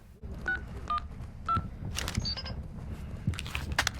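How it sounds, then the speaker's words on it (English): A phone is picked up in the Call of Duty DMZ video game: three short electronic beeps in quick succession, then a burst of clicks and rattles and brief tonal chirps, close and fairly quiet. "Now I'm gonna pick up the phone."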